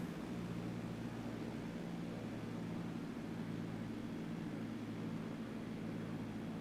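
Airplane rolling down a runway in a flight simulator game while braking, a steady loud engine drone with low rumbling hum running continuously throughout, no voices.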